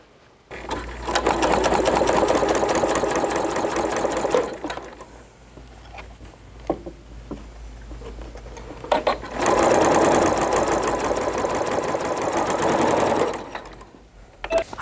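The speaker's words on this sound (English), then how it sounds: "I'm going to match this dot to this dot and sew my quarter inch seam" A sewing machine stitches a quarter-inch seam joining quilt binding, a loud fast steady whir in two long bursts separated by a quieter pause with small handling clicks.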